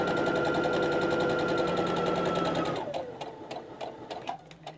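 Sewing machine running a top stitch on a fabric grocery tote, a fast, even mechanical whir close up that stops after about three seconds, followed by a few faint ticks and clicks.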